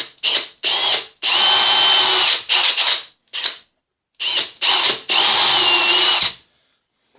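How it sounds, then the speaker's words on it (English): A power drill with a 2.5mm bit bores a hole into a wooden board for leatherwork, whining in short close bursts and a few longer runs, separated by brief silences. "drill a hole about 1/2 inch deep or a little bit deeper"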